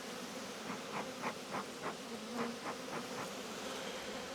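Agitated honeybees swarm around an open hive during an inspection, their dense, droning buzz close and continuous, pulsing in waves with no talk.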